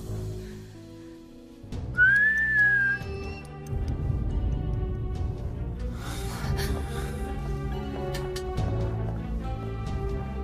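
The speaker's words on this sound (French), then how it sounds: "J'ai à nouveau sifflé, et le sifflement est sorti de la salle de bain." A single short, rising whistle sounds over steady synthetic background music, followed by the music continuing alone.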